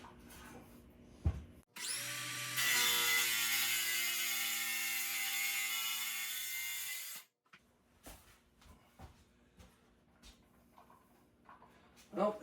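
A power saw with a preset depth cuts into cabinet wood inside a mobile home trailer, a loud whining rip lasting several seconds, followed by quieter clatter and handling noises.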